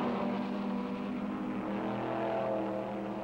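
Race cars at the 1962 Mosport race drone past in a continuous engine roar, steady and moderately loud, with a pitch that shifts slightly as the field circulates.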